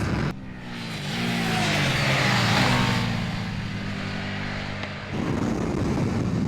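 A KTM 790 Adventure motorcycle pulls hard on a race track, its engine rising in pitch as it accelerates, then dropping with a short upshift into fourth before it climbs again, loud and close with wind rushing past.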